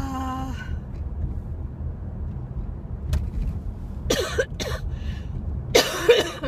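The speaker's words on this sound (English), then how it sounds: "Still coughing." A few sharp coughs in quick bursts near the end, close to the microphone, after a short tone and a quiet stretch of background rumble.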